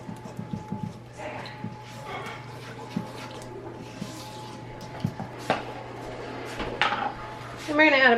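A spoon stirs batter with vanilla in a bowl, making quick rhythmic clinks and scrapes at close range, while a dog whimpers and yips faintly nearby.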